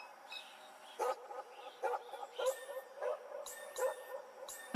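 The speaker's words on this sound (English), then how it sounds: "The barking of dogs in the distance." Distant dogs barking in the video game Norco, a series of faint, spaced yips and barks over a steady low ambient hum, with no voices.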